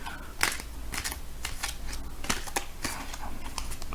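A printed Rider Waite tarot deck is shuffled by hand, giving a run of quick papery riffles and taps at close range, several bursts in a row with no speech.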